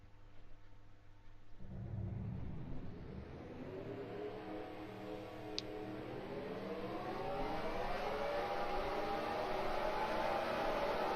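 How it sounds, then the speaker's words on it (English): Race cars in a sim racing game rolling off at the start of a race at Pocono, a quiet lull that gives way to a building chorus of engines that rise in pitch and grow steadily louder as the field gets moving. "Let's now get the cars rolling off."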